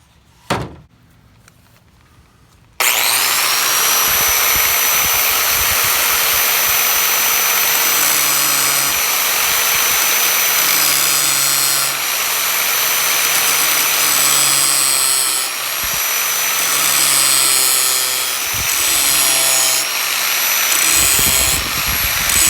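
A stainless Mora Companion knife spine is ground into a scraper on a powered grinder, a loud continuous whirring grind that starts abruptly after a thump and runs for about twenty seconds.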